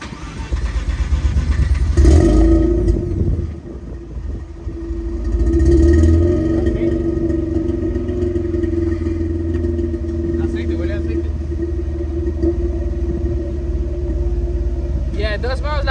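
A Mazda RX8 with a suspected coolant seal failure starts and runs, its engine rumbling loudly with a couple of rev swells early on before settling into a steady idle.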